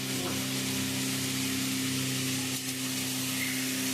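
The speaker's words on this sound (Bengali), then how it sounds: "এবার চিংড়ি মাছটা দিয়ে দেবো। চিংড়ি মাছটা আলাদা করে ভাজার দরকার নেই" Prawns frying in a pan with pointed gourd, a dense steady sizzle with soft stirring underneath and a constant low hum, close and unbroken.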